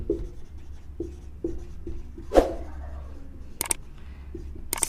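Marker or chalk writing on a board in a physics lesson, a few soft strokes and taps spaced out, with one sharper scrape and bright squeaks near the end.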